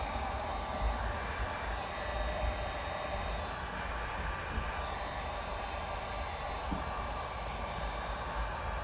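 Heat gun blowing steadily over freshly applied tint film on a 2021 Ford Bronco headlight, a soft, even airy hiss at low level with no break.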